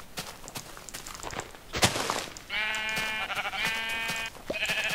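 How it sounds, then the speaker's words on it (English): In Minecraft, soft footsteps and scuffling lead into a sharp hit, then sheep bleat in long, wavering calls that overlap near the listener and carry on to the end. "There's some sheep."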